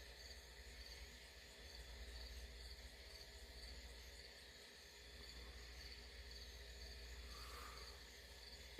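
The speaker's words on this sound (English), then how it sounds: "You missed the sound of the crickets." Crickets chirp at night in a steady, unbroken chorus of high trilling pulses that holds at an even level for the whole stretch, with no voices.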